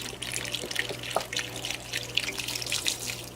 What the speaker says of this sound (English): I'm adding a quart of the broth